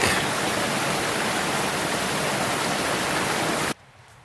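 A low-flowing creek in the Ventana Wilderness of California's Central Coast makes a steady, broadband rush of water, close and continuous before cutting off abruptly near the end.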